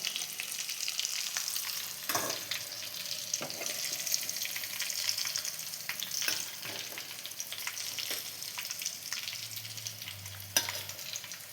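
Chicken frying in a pot for biryani, a steady sizzle broken by scraping stirs and clatters throughout, close and fairly loud with no voices.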